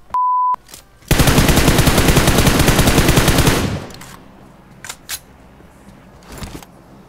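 Rapid sustained burst of M16 rifle fire in PUBG Mobile, loud and close, lasting a few seconds before fading into a few scattered distant shots.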